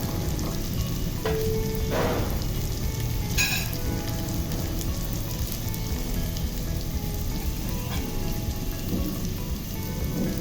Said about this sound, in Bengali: এখন মশলাগুলো চালের সাথে একটু ভালোভাবে কষিয়ে নিচ্ছি।